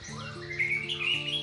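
A caged orange-headed thrush (anis merah), recently through its moult, gives a short close call, a buzzy harmonic squawk sliding into a rising whistled note, clear and alone for about a second and a half.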